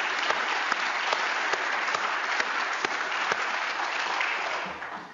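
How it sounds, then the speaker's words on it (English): An audience at a user group conference welcome session claps together, a dense wash of applause with a few sharper individual claps, fading out at the end. "Let's have a round of applause for all of those folks"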